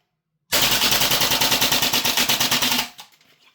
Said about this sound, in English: I'm going to try and run the rest of the mag on full auto